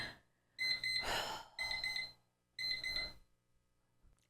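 A timer beeps in three loud, rapid bursts of shrill electronic chirps, each about a second long with short gaps between, sounding close and alone.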